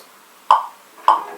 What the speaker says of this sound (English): So if I play the metronome one more time